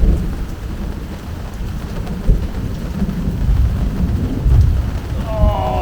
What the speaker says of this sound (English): It is ridiculous how many lightning bolts there are coming out of here.